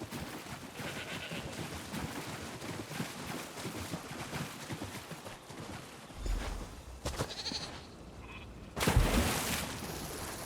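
Goats in Elder Scrolls Online let out a few bleats amid game sound effects, the cries short and spaced out, with a loud burst near the end.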